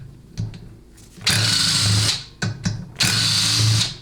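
A power tool loosening bolts on a 6L80 automatic transmission during teardown, two sustained loud whirring bursts separated by brief clicks and ratchet-like taps, close by with no talk.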